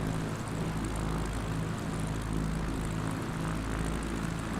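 Propeller airplane engine in a flight simulator, taxiing on a backcountry Idaho runway: a steady, close drone with a pulsing low throb, no voices.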